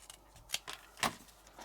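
Scissors snip out a large paper leaf shape for card making: a few quiet, crisp cuts close by, with soft paper rustle between them and no talking.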